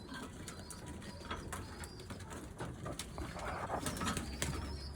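Budapest pigeons in a coop coo and shuffle close by, with soft calls and occasional wing flaps over a steady low background rumble.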